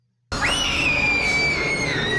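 A video game character lets out a long, loud, sustained scream after waking from a nightmare, starting abruptly after a short silence and holding steady throughout.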